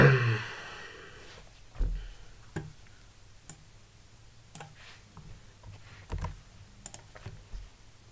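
Keys on a computer keyboard are tapped at a server terminal in sparse, separate clicks spaced out over several seconds, close and fairly quiet, with no talking.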